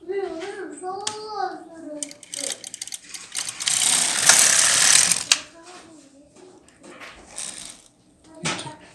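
Carriage of a knitting machine pushed across the needle bed, a close rising whir and clatter lasting a couple of seconds in the middle, framed by someone speaking before and after.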